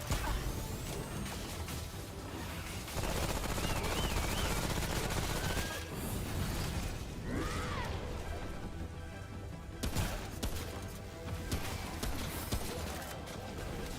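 Gunfire in Remnant: From the Ashes, rapid bursts of shots and crashing impacts over a long stretch, fairly quiet in the mix, with a voice talking intermittently and game effects around.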